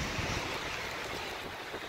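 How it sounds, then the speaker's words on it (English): Steady broadband roaring rush of strong wind buffeting in a dust storm, dense and continuous with no voices. "that's a dust storm here."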